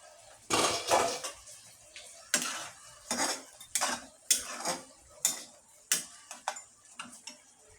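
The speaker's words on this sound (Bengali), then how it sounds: "আমি ঢাকনাটা খুলে দিচ্ছি।" A metal lid comes off a cooking pot of roasting biryani. Several sharp clanks and rattles of metal against metal sound close by at irregular intervals, with quiet gaps between them and no voices.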